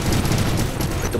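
Loud, rapid bursts of gunfire from the PC game War Robots, dense and continuous with no pauses, close and harsh.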